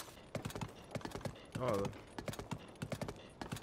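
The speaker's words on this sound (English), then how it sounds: "Is that another horse over there?" Horse hooves clip-clopping in Zelda: Tears of the Kingdom, a quick irregular run of clear hoofbeats with a brief spoken exclamation in the middle.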